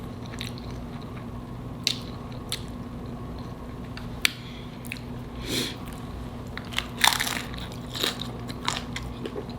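Biting into and chewing shrimp tacos, with soft crunches and squishy mouth sounds scattered irregularly over a steady low background hum, close and fairly quiet.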